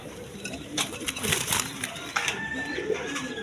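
A pair of Giribaz pigeons, a new adult male and female, coo with low repeated notes at close range, mixed with shuffling and other faint background sounds.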